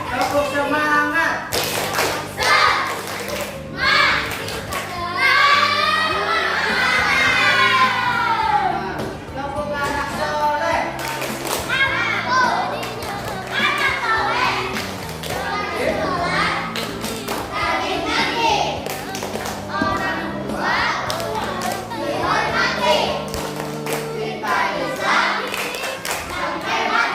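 Schoolchildren doing a rhythmic spirit clap, loud patterned hand claps and taps in quick sequences mixed with children's shouting and chanting voices, continuing throughout.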